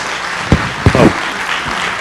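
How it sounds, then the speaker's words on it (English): Applause from the crowd at a city council meeting, a sustained clapping wash throughout with a few louder nearby claps and a brief voice cutting in near the middle. "Let's give them a big round of applause."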